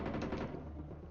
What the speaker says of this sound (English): So machine gun barrage